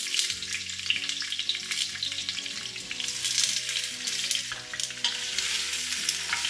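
Red peppers frying and being stirred in a pan for a red pepper sauce, giving a steady close sizzle with scraping stirs over background music, no talking.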